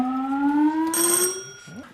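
A loud electronic tone sounds briefly, a steady rising drone joined by a high bright note, ending abruptly.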